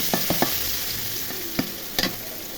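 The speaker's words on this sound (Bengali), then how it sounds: "পেঁয়াজগুলো ভেজে নিব।" Chopped onions fry in hot oil for a cauliflower and potato fish curry, a close, steady sizzle punctuated by several sharp spatula taps and scrapes against the pan, with no talking.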